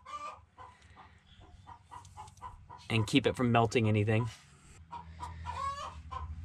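Chickens in a nearby coop cluck and cackle, one burst loud and close in the middle, while a person talks quietly before and after.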